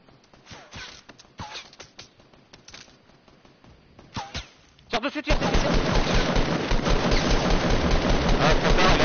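Sporadic single shots and short bursts in a video game, sharp and close, followed by a sudden loud, continuous barrage of rapid gunfire that fills the second half; a voice speaks during the quieter opening.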